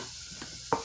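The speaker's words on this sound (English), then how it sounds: "I can hear my bacon sizzling." Bacon frying in a pan gives a steady, close sizzle with a brief louder crackle near the end.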